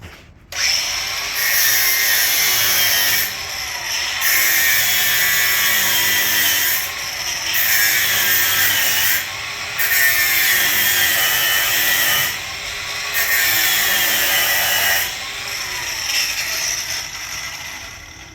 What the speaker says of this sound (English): He's gonna get after that and get it grinded.